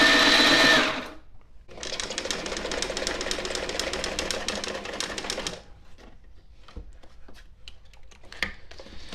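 A Sailrite Ultrafeed LS-1 walking-foot sewing machine stitches thick nylon webbing over a hump, giving a fast, steady mechanical chatter that slows as it strains over the bump, then stops, leaving a few faint clicks.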